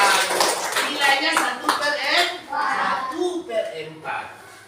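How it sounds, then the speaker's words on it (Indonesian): Children in a classroom clap their hands in short bursts alongside lively talk from children and a teacher during a maths lesson. "Ya, tepuk tangan."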